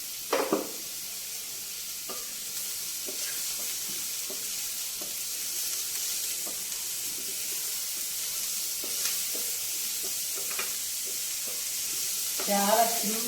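Sliced carrots with salt fry in a pan for a dry prawn curry, giving a steady close sizzle and hiss throughout, with a few soft stirring scrapes and clinks.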